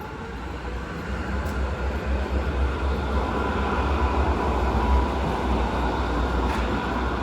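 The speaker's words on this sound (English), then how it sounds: "Tram." A tram rumbles past nearby on Schweizerstrasse in Frankfurt Sachsenhausen, a steady low mechanical roar with a faint high squeal, continuous throughout with no voices.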